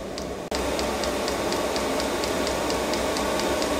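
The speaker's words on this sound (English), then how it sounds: "That's the sound of the pump. Starting to kick in now." Diesel heater fuel pump ticking at a steady rhythm of about four clicks per second, close by, over a loud continuous rushing roar of the running heater, with a brief dropout near the start.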